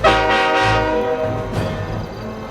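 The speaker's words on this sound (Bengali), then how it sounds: "সিগন্যাল হয়ে গেছে, ট্রেন এসে যাবে তো," A train horn blasts loudly and sustained at close range as a train approaches, its tone holding for about two seconds before fading into the rumble of the oncoming train.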